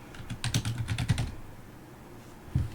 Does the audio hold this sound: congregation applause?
no